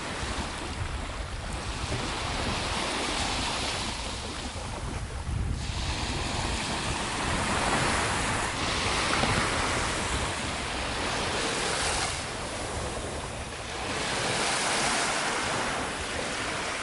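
Waves washing onto a small private beach, a continuous broad surf rush swelling and easing in slow surges, mixed with gusts of wind buffeting the microphone.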